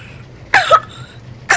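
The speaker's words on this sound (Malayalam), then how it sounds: "ചുമക്കുന്നുണ്ടോ?" A baby character in the video game Avatar World gives two short, sharp coughs about a second apart, close and clear over a quiet background.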